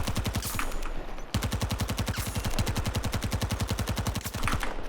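Rapid automatic gunfire from the Battlefield 2042 video game rattles in dense, sustained bursts, loud and close, with one brief break early on before the steady stream of shots resumes.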